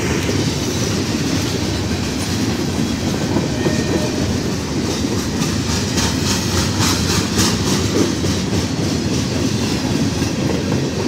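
Canadian National freight cars rumble steadily past at close range in Effingham, Illinois, a continuous rolling roar with rhythmic clatter and scraping from worn wheels on the rails.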